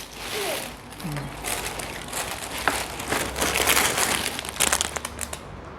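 Plastic shopping bags crinkle and rustle as items are packed into them, with irregular bursts of crumpling close by and some faint background voices.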